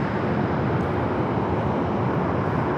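A Delta Boeing 757 airliner at Phoenix Sky Harbor airport gives off a steady, broad jet engine roar that holds constant throughout, with no speech over it.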